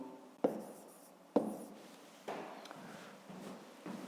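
A pen scratches on paper while working a fifth-grade maths exercise, a few close, distinct strokes with sharp onsets and soft trailing scrapes, no voice heard.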